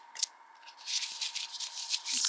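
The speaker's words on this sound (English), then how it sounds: "Let's do one more shuffle." A deck of tarot cards is shuffled close by, giving a run of quick crisp riffling and rubbing bursts with a steady background tone underneath and no talk.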